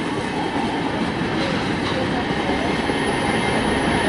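Amtrak 19 passenger train rolling past a railfan spot in the Austell and Mableton area of Georgia, a loud steady roar of wheels and rail with clickety-clack and faint squeal, close and continuous throughout.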